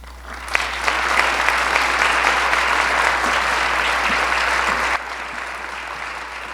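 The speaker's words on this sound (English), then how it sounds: "Can we give her another round of applause, please?" A hall audience at the Burnsville State of the City 2022 civic event breaks into steady, dense applause that holds evenly for several seconds and then drops to a softer patter.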